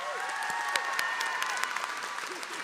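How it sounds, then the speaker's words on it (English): A high school graduation crowd applauds steadily, honoring top-ranked graduates of the class of 2026, with dense clapping and a few louder individual claps standing out nearby across the whole stretch. "Let's give them a round of applause."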